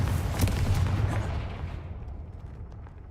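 A Confringo fire spell blast in Hogwarts Legacy erupts as a loud, booming explosion at the start, its rumbling tail slowly fading over a few seconds with no talk.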